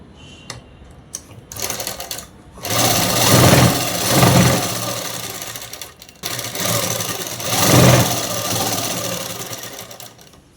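A sewing machine stitches dress fabric in two long loud runs separated by short pauses, with a few brief mechanical clicks before the first run begins.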